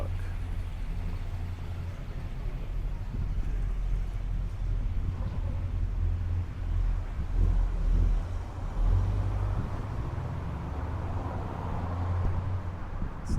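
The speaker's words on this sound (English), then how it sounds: "Check out that truck." A truck rolling along a tree-lined city street in Buenos Aires's Colegiales–Belgrano area, a steady low engine rumble with traffic noise swelling as it passes nearby.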